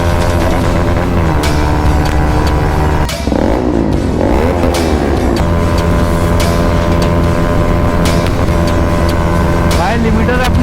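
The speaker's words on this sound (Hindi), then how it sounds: "NS 200 एग्रेसिव टोटल राइड भाई विथ एक्राफोबिक एग्जॉस्ट।" Pulsar NS200 motorcycle fitted with an Akrapovic exhaust riding on a highway, its engine droning loud and steady throughout with rising and falling revs, a voice speaking over it.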